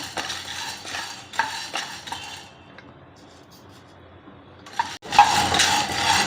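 Dry peas and chickpeas roast in a pan for a traditional multigrain thalipeeth flour, giving a soft rattling stir that pauses and then returns louder near the end, with no talking.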